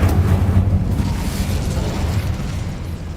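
An Incendio fire spell erupts in Hogwarts Legacy, a loud, sustained roaring blast with deep rumble that slowly fades over a few seconds, with no talking over it.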